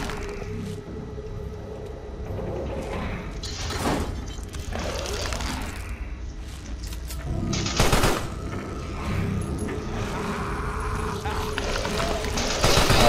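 Gunfire striking the player creature in the video game Carrion, repeated sharp shots and impacts over a dense, busy game soundscape with growls and squelches throughout.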